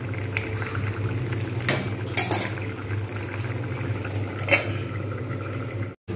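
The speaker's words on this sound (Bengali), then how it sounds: "মাছটা দিয়ে জাস্ট একটু স্ট্যান্ডিং টাইম দেবো, একটু ফুটিয়ে নেবো 1-2 মিনিটের মতো।" Bhetki fish curry with cauliflower and potato bubbles steadily in a pot, a low continuous simmer broken by occasional clinks of a metal utensil against the pot.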